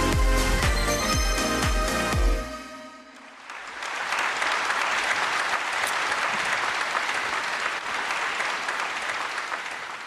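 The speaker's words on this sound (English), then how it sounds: "Please give Mr. Kim Suntae, the YouTube specialist, with a big round of applause." Audience applause after a lecture at a conference, a broad sustained wash of clapping from many people that swells after a short musical sting and holds steady to the end.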